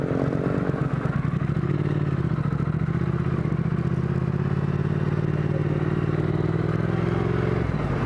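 A motorcycle fitted with Vance & Hines slip-on mufflers idles close by with a steady, deep low burble and a rhythmic exhaust pulse that holds evenly throughout, no voices over it.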